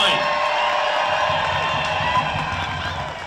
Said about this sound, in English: Can we get Jennifer and 5501 and Powder News a huge round of applause?